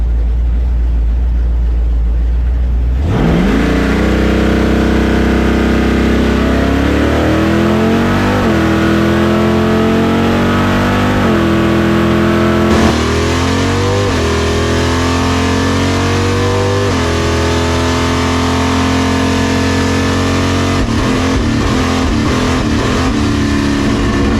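A drag racing car at a raceway roars off the line with a loud, sudden launch and then accelerates hard down the strip, its engine pitch climbing through a series of rapid gear shifts and staying very loud throughout.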